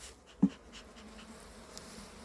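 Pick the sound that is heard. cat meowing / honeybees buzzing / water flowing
honeybees buzzing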